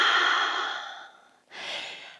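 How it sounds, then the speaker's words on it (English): A full yoga exhale comes through as a long, loud breath that fades over about a second and a half, then a second shorter breath follows, close and alone with no talk. "And one full exhale."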